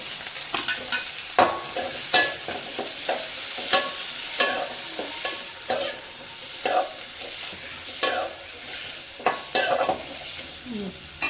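Chopped tomatoes sautéing in a kadai for a millet recipe, a steady sizzle broken by repeated scraping strokes of a spoon stirring through the pan, close and clear with no talking.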